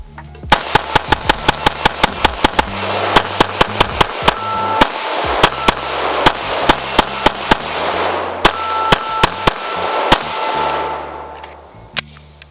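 Glock 17 pistol on a Lantac Razorback build firing a full magazine, with a rapid series of sharp, loud gunshots and metallic clangs of steel targets, rhythmically spaced, ringing out outdoors.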